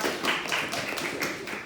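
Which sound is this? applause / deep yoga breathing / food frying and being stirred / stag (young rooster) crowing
applause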